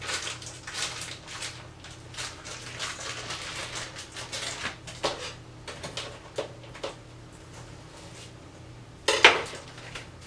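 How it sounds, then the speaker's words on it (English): Chopped eggplant and yellow squash clatter into a metal pot, a run of soft knocks, scrapes and utensil clinks close by, ending in a sharper louder clank. "keep adding our eggplant in here. More yellow squash."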